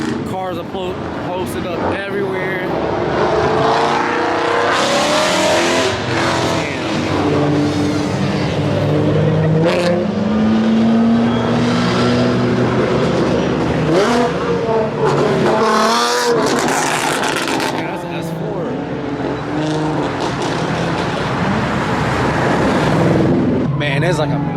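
Loud car engines rev and roar close by at a car event on a Gatlinburg street, with tires squealing at moments and people talking amid the constant street noise.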